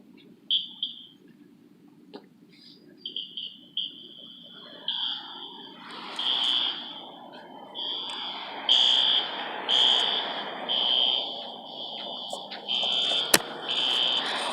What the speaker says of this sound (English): Shut up, fire alarm!